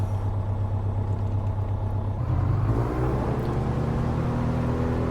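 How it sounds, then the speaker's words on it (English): Aircraft engine in the Prepar3D flight simulator at Orbx Blue Canyon runs at full throttle for takeoff, a loud, steady droning roar that rises in pitch and power partway through, with no speech. "I'm going to apply full throttle and hold her on the brakes."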